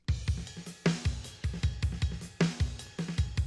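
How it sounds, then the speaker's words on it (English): A punchy drum loop with a steady kick and snare pattern, crisp hi-hat accents and a crash marking the start of each bar, loud and close. "And of course we've got main beats."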